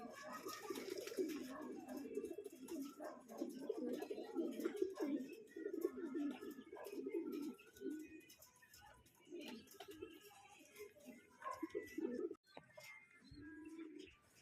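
Racing pigeons coo repeatedly at a home loft, soft throaty calls rising and falling in overlapping bursts, close by, with a few faint chirps and light background noise.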